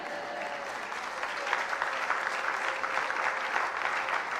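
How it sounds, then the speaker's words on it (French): A church congregation bursts into applause and cheers of praise during a sermon, a dense, steady wash of clapping that swells slightly and holds for several seconds. "Est-ce qu'on peut dire un Amen de joie et acclamer pour le Seigneur?"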